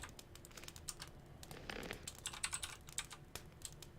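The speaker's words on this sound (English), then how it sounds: "Oh god, I'm not even typing accurately." Fast, uneven typing on a computer keyboard, with soft close key clicks in bursts and small pauses during a live Gothic 2 playthrough.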